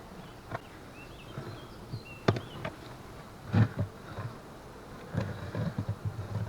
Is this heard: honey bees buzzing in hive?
yes